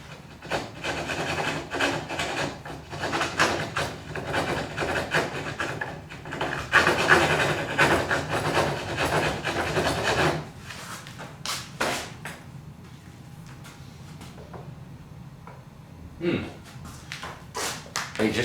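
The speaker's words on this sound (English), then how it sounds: "So just going to run around it with the D rasp." A D rasp files the wood of a part from an 1865 Forster & Andrews pipe organ. Quick, close rasping strokes come in a busy run, then give way to a few sparser scrapes and knocks.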